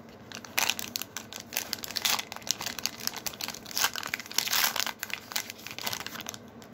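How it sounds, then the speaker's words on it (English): The foil wrapper of a 2021 Select football card hanger pack crinkles and crackles loudly and continuously up close as hands tear it open, with no talking. "so let's open it up"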